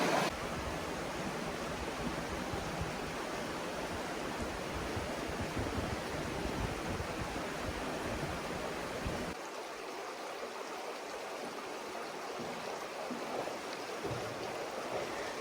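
Water rushes steadily through Muddy Creek in Utah's San Rafael country, a dense, continuous broadband roar that eases slightly in the low end partway through.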